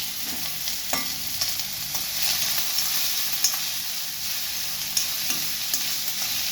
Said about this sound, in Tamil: வெங்காயம் போட்டதும் வெங்காயம் நல்லா ஃப்ரை ஆகணும்